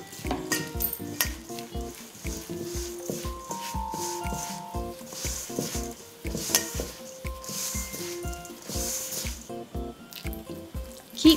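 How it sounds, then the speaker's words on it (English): Flour dough for nimkin being kneaded by hand as water is added bit by bit, heard as a close, steady run of soft slaps, taps and wet squishing knocks against a bowl or surface, with light clinks of kitchenware. "Start to knead the dough and bit by bit add water."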